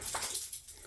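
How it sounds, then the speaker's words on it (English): Pet dog whimpering softly in the background indoors, a short faint high whine that fades out within a second. "that's my dog you hear in the background"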